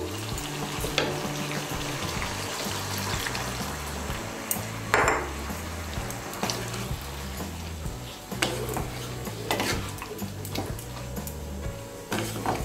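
Pumpkin curry with potato and pointed gourd simmers and is stirred in a pan with coconut milk. There is a continuous close bubbling sizzle with repeated scraping and clinking of a spoon against the pan.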